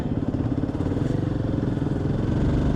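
A Royal Enfield Himalayan adventure motorcycle cruises along a busy highway on a Sunday morning, its single-cylinder engine giving a steady, loud, close thumping drone with a rhythmic pulse throughout and no speech.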